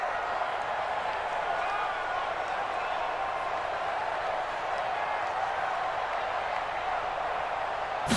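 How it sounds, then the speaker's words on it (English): A stadium crowd cheers in the Madden NFL 20 football game ahead of a big third down, a steady dense roar of massed voices sustained throughout at even loudness. "the crowd getting into it as we come up on a big 3rd down"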